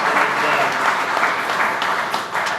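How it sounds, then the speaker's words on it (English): At an outdoor dedication ceremony for Harbor Place in 2017, the audience gives steady, sustained applause, a dense wash of many hands clapping at once with no pause. "please give him another round of applause for his great work"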